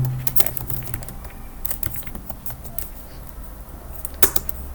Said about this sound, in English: type print how old are you